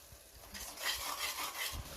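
Chicken frying with onions and spices in a pan for chicken curry, giving a soft steady sizzle with light scraping and stirring strokes, close and fairly quiet.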